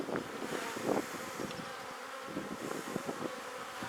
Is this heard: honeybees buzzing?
yes